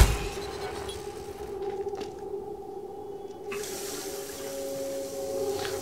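Water runs steadily from a tap into a sink in the video game Prey, a continuous splashing flow over a low background hum.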